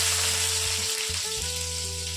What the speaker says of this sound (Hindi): अब इसमें लाल सूखा मिर्चा का तड़का दे के